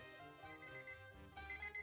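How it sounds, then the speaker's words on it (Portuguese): A bedside alarm clock rings in short, bright, rapid bursts, loud and close, repeating in a steady pattern with no voices. "É barulho de despertador."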